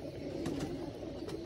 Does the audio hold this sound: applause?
no